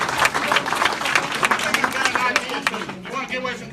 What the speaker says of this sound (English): Give Mr. Stokes another round of applause.